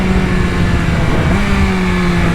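A BMW S1000RR sport motorcycle's engine runs loud and steady while riding, a close, continuous mid-pitched drone with a slight pitch shift partway through as the rider downshifts, mixed with road and wind noise.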